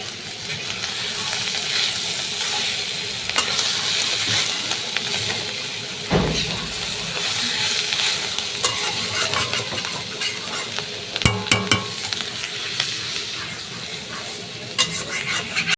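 Bitter gourd bhaji stir-frying in a wok over a lowered flame, giving a steady close sizzle and hiss with occasional scrapes of a spatula against the pan.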